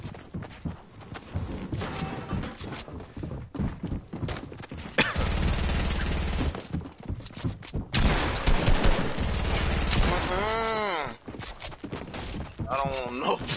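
Rapid bursts of pistol gunfire crack loud and close in quick, uneven volleys, broken by short pauses, while people talk excitedly in between.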